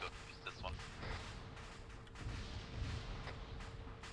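Distant booms and scattered gunfire from an Arma 3 US versus Iran battle, faint and irregular under a low steady hum, with voices talking over the noise.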